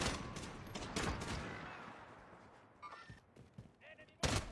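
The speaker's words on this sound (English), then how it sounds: "Enemy mortar" Enemy mortar fire in a video game: heavy explosive blasts and gunfire bursts, strongest near the start and again at the end, with quieter rumbling between.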